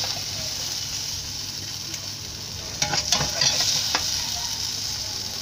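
A steady sizzle of potatoes and eggs frying in a pan, a continuous bright hiss with a few louder crackles and stirring scrapes near the end, no speech.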